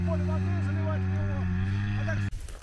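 A Bars self-propelled field sprayer drives off with a steady, droning engine hum and strong low harmonics, heard close and continuous before cutting off abruptly near the end, while a voice talks over it.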